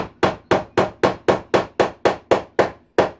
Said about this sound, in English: And I can use the hammer in the right direction this time.